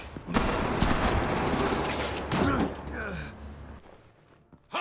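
Gunfire bursts in the Batman: The Enemy Within video game, a dense volley of shots near the start that sits under voices and game dialogue, then thins out toward the end of the clip.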